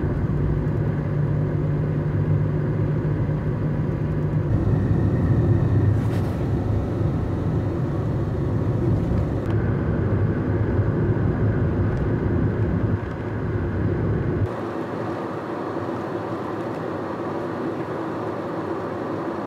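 A car cruising on an open road at around 50 mph, with a steady broad rumble of tyre and road noise heard from inside the cabin, continuous and fairly loud, shifting in tone partway through.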